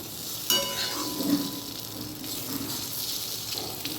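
Onions fry with turmeric in a pan, giving a steady close sizzle and hiss with a few stirring clatters, loudest early on.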